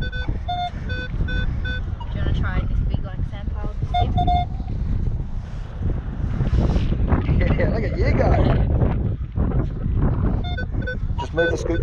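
Wind gusts buffet the microphone on a beach, a steady low roar throughout, with beeping tones mixed in and people talking.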